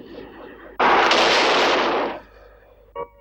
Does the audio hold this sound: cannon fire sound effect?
yes